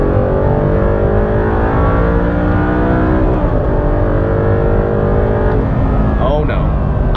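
An Audi R8 engine holds a loud, sustained high-RPM drone, its tone climbing steadily with strong harmonics close to the cabin.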